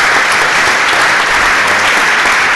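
An audience of about 200 people at a talk claps loudly and densely, a continuous close burst of applause.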